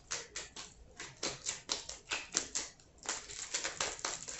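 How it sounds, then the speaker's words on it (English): Tarot cards being shuffled in steady, rapid bursts of papery slaps and riffles, close up with no talking. "I'm just going to shuffle this a little bit"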